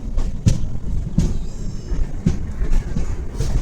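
A Rajahmundry–Visakhapatnam MEMU train slows near Duvvada station, heard from inside as a loud, low rolling rumble with rhythmic thumps of wheels over rail joints.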